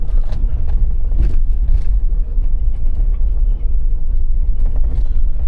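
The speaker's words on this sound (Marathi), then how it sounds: "माझ्या मागे एक गाडी आहे." A vehicle rolls past on a road near the Sagareshwar temple at Vengurla, a close, loud low rumble of engine and tyres lasting throughout with no talk.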